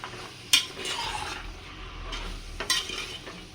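Mixed vegetables being stirred in a pressure cooker pot for a Bhogi mixed bhaji, with a sharp utensil clank against the metal, soft scraping and a faint sizzle underneath.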